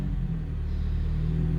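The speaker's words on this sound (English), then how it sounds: "here it is idling" Nissan Sentra Spec V engine idling at about 1400 RPM with a fault, a steady low rumble with a continuous hum and no talk over it.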